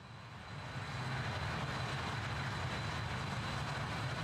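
Cabin noise inside a British Airways RJ100 jet rolling along a bumpy runway, a loud, steady engine roar with rumbling from the rough surface that rises early and then holds constant.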